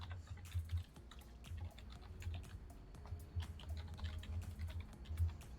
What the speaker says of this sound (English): I can really hear that typing, the keyboard sounds.